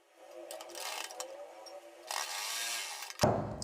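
A sewing machine stitches a fabric neck strip for a neckline in short mechanical bursts. The motor starts, pauses and restarts close by, then a sharp knock lands near the end.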